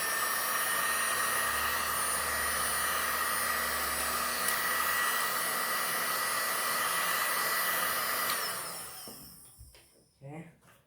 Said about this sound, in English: got the heating gun here. Gonna get this battery out. For that, first I need to heat the gum below it.